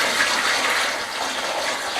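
Two litres of water pour steadily onto a solid stone partition wall under construction, a dense, even rushing gush close by, with no voices.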